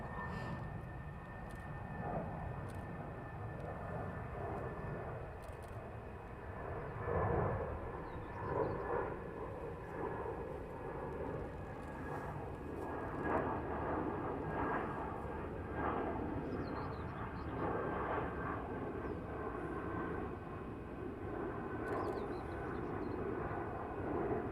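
Distant airplane at Heathrow Airport, a steady low broadband roar of engine noise that swells gently and lasts throughout, with no talking.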